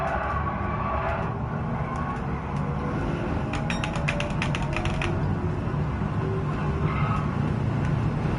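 A car engine in Gran Turismo 7 drones steadily at moderate loudness, with pitch shifts as the gears come down and a burst of rapid clattering clicks in the middle.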